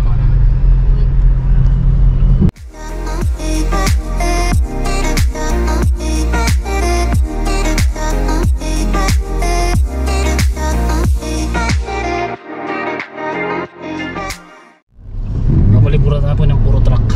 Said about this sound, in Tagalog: Mabalibura na po ng puro truck.